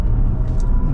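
Electric Chevrolet Blazer accelerating on a test track, heard from inside as a steady, dense low rumble of road and motor noise with no distinct engine note, continuous and close for about a second.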